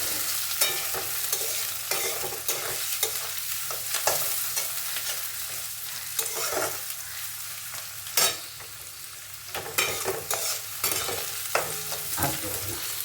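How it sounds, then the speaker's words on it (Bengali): Onions frying in oil in a pan, a continuous close sizzle with frequent stirring scrapes and clicks of a spatula throughout, fairly even in loudness. "আর একটু তেল লাগবে, এবার একটু তেল দিয়ে দিচ্ছি"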